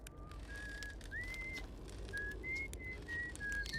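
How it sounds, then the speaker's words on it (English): A player whistles a wavering, tuneful melody in the video game Outer Wilds, thin sustained notes rising and falling over a quiet background hum, no speech. "Start whistling."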